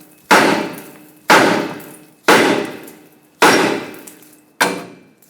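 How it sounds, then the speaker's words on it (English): Five hard metallic hammer strikes on the steel steering knuckle of a 2009-2014 Ford F-150, freeing the tie rod stud, evenly spaced about a second apart, each ringing briefly before fading. Close and loud. "Now take a hammer and tap the knuckle right here so the tie rod stud can break free."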